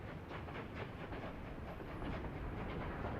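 A freight train rolls along the rails in the 1930s Soviet-era city-builder game Workers and Resources, a steady dense rumble with faint rhythmic clatter that holds at an even level throughout, with no talking.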